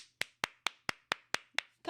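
Seven sharp, evenly spaced hand claps ring out at a steady rhythm, crisp and fairly close, followed by the start of a voice.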